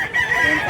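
Chickens at a market in Cebu cluck and crow in a brief, close, dense burst of fowl calls.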